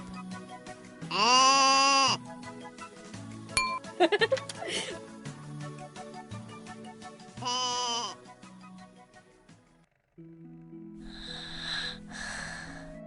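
Several sheep bleat one after another, loud and nasal, with pauses between calls and a shorter, breathier bleat near the end.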